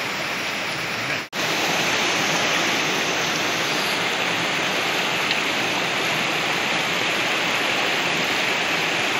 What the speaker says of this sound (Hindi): नदी है